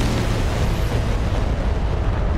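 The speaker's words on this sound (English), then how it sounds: "More bombs, more explosions." Bomb explosions in a naval battle game pitting a Star Destroyer battle group against a WWII Japanese Pearl Harbor carrier fleet: a dense, continuous roar of blasts, loud and unbroken throughout.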